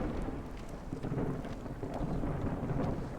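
A thunderstorm closes in during a session of the video game Against the Storm: a steady, dense wash of rain with low, continuous rumbling throughout, fairly loud and unbroken, with no talking.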